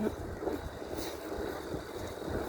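Steady wind rushes and buffets outdoors on a gusty day, a continuous low roar with no clear breaks.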